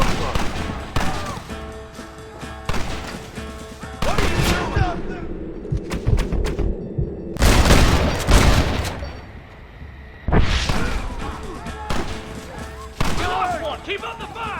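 Battle gunfire in the video game Red Dead Redemption, with bursts of rifle and gun shots and heavy booms coming in loud clusters across the clip, while voices shout over the shooting.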